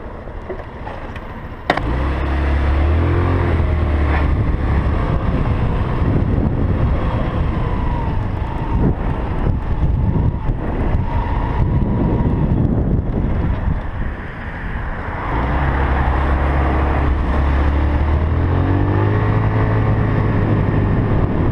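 A Peace Sports Knight 150 scooter accelerates from a standstill to 40, its engine note climbing through gears with a brief dip midway, loud and close under heavy wind buffeting on the microphone.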